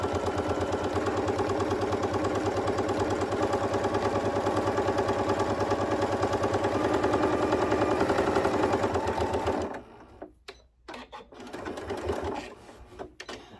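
A sewing machine stitches a seam on a two-toned zipper tote bag, running at a steady rapid pace for about ten seconds, close and loud, then stopping. A few soft handling sounds follow.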